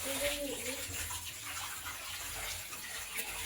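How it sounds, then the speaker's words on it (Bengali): Rice with masoor, khesari and mung dal being rinsed under a running tap, a steady gush and splash of water throughout with a voice faintly in the background. "তো সবগুলোকে আমি ভালো করে পরিষ্কার করে ধুয়ে নেব"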